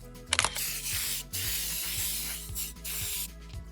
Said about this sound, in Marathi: आता ही स्प्रे मारतोय